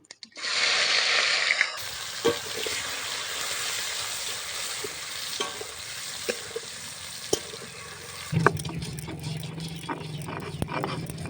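Cumin seeds and chopped onions hit hot oil in a pan, setting off a loud sizzle that settles into a steady frying hiss with occasional pops and stirring clicks, no voices.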